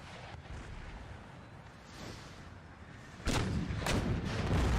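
Booming artillery cannon fire in a Napoleonic-era battle, 1809: a couple of distant deep thuds, then two heavy close blasts that leave a loud rumbling roar, with no talk.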